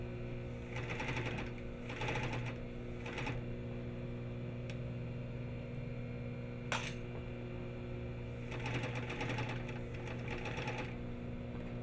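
A sewing machine stitches a fly front zipper in short close bursts of rapid mechanical whirring, separated by quieter pauses with a faint motor hum and a single sharp click midway.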